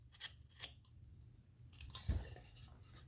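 A knife cuts into wood while a folk art angel is being carved, producing a few soft, close scraping and snipping sounds with faint crisp clicks, and one small sharp cut near the end.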